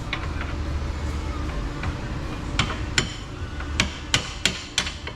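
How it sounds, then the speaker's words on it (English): Sharp metallic hammer strikes on a socket extension against a 2010 Chevrolet Equinox 3.0 AWD lower control arm, a quickening series of bright clanks over a low hum of background noise in a garage. "sometimes you just gotta reach out and hammer something"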